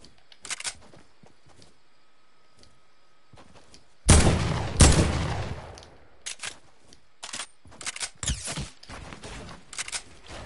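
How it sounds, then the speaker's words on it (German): Fortnite gunfire, a dense burst of loud close shots followed by scattered sharp single shots and distant pops against a quiet game background. "was schießt ihr mich alle an?"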